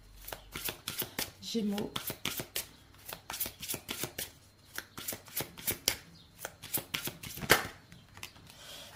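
Oracle cards shuffled by hand in a French tarot-style reading, a steady run of crisp riffling taps and snaps repeating throughout, close and clear, with a voice talking over them.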